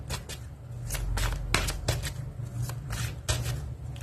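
Tarot cards being shuffled by hand, a soft papery riffling with sharp snaps and flicks, close and fairly quiet over a low steady hum.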